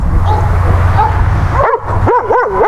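A police K9 dog on an alert command gives a run of whining yips and barks at close range, pitched cries rising and falling over a low rumble of background noise.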